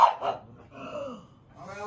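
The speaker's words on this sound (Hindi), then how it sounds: "भौंक रहा है" A dog barks and growls at someone in a family home, with a sharp bark up front, a second yelp, then a low rumbling growl close by, a short, agitated outburst.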